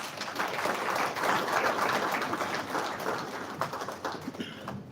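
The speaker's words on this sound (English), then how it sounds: "Another round of applause." An audience at a parliamentary plenary assembly session applauds steadily, a dense, even wash of many hands clapping throughout that thins out slightly toward the end.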